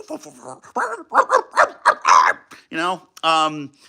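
A voice imitates a dog or wolf, giving a run of short yips and barks followed by two longer drawn-out howl-like calls, close and loud.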